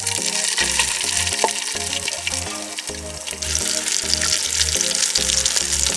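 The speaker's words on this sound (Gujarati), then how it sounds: "તો તેલ હવે ગરમ થઈ ગયું છે તો જીરું અને આખો મસાલો નાખી દઈશું." Cumin and whole spices sizzling in hot oil for a sev tameta shaak, a loud, dense frying hiss that carries on steadily with no one speaking.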